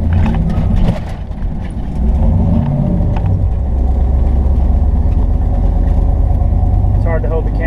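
A low-geared six-speed vehicle engine that tops out around 55 mph rumbles steadily, dipping briefly early on as gears change before settling into a continuous drone, with a voice talking over it.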